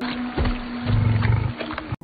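A bear roars in a wild setting, a couple of rough, growling roar bursts close and loud, with a deeper sustained growl in the middle before cutting off.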